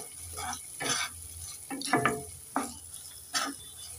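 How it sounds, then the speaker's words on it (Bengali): Vegetables seasoned with salt are stirred in a frying pan, with a soft sizzle under a series of scraping strokes of the spoon at an uneven pace, close and fairly quiet. "এখন একটু দিয়ে দেব স্বাদ মতন নুন, একটু নেড়ে চেড়ে দিয়ে দেব।"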